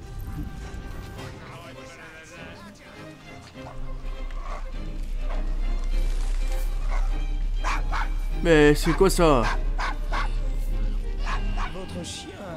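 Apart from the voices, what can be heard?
angry dog barking in the video game Assassin's Creed Syndicate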